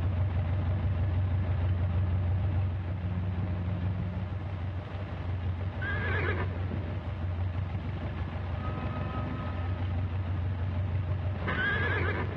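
A horse neighs loudly in two shrill whinnies amid a steady low engine drone, with faint hoof clatter in a 1930s adventure serial setting near a clipper aircraft.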